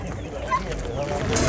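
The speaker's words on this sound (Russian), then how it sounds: "Вот продаются петухи." Roosters cluck briefly amid a busy, noisy bird market background with people talking nearby.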